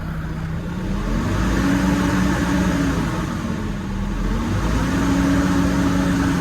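A car engine revs steadily and loudly up close, its low hum rising and falling in two long swells, with no talking over it.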